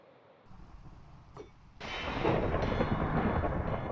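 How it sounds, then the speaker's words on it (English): Minecraft video game thunderstorm: a quiet lull and a faint crack, then a loud thunder clap that breaks into a sustained rumble with rain noise, no voices. "then I think I have a thunderstorm"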